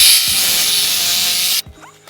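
A power saw bites through pool plumbing pipe, a loud, steady high-pitched whine with grinding for about a second and a half that cuts off abruptly, followed by a faint clatter.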